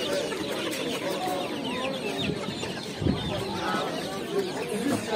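Chickens and roosters cluck and crow amid the busy din of a poultry market, dense and continuous, with vendors' voices calling out under the birds and occasional louder squawks rising above the crowd.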